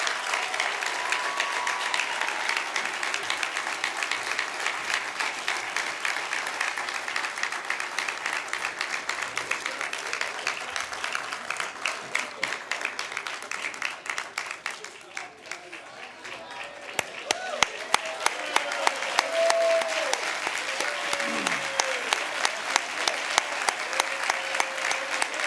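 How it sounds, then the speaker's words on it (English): Sustained audience applause fills a hall during a city's State of the City address, dense steady clapping that swells and dips briefly midway before building again, with faint voices mixed underneath. "One more round of applause, ladies and gentlemen, for the Yonkers Police Color Guard, Jessie Popper, and the Children's Choir of Yonkers."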